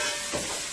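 Garlic frying in a pan sizzles steadily with a bright, continuous hiss, close and even, with no talk.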